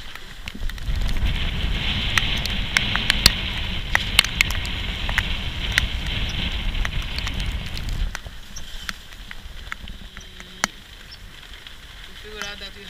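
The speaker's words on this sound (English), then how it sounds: "The weather is still very bad, it's raining also." Steady rain patters on a sailboat moored off Martinique in bad weather, making a dense hiss with scattered sharp drops that thins out after a few seconds and leaves softer, sparser drips.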